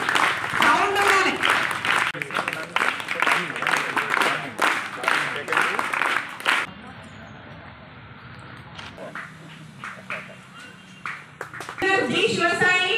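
Crowd applause and clapping for winners at a school sports meet in Ibrahimpatnam, loud bursts at first, then a quieter stretch and a final burst, with talking over the claps.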